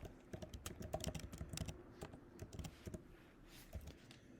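Keyboard keys tapped in quick irregular bursts while a short message is typed, close and fairly quiet with no talking.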